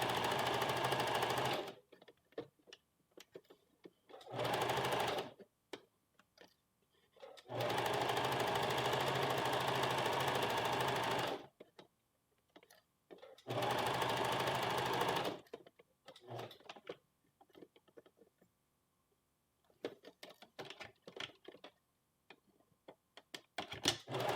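A sewing machine stitching close to the edge of a shirt collar on a western blouse, running in several loud, steady bursts separated by pauses with small handling clicks.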